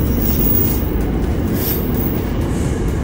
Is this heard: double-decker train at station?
yes